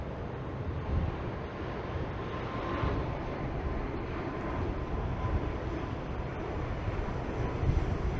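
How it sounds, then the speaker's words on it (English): A Porter Airlines jet approaching the Toronto island airport gives a steady, distant rumbling roar, partly blended with microphone wind noise on a cloudy waterfront. "And that would be a Porter Airlines jet approaching the island airport."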